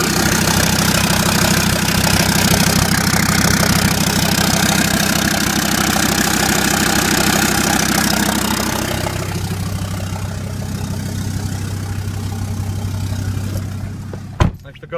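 A Mercedes C250 turbodiesel with 176,000 miles and the exhaust removed idles after a cold start with a loud, steady diesel clatter that drops to a lower, smoother idle partway through, ending in a sharp click.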